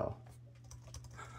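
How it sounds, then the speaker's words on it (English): Soft, scattered key clicks on a 2008 Titanium MacBook Pro keyboard, faint and close, over a low steady hum. "It's my first time ever typing on one of these."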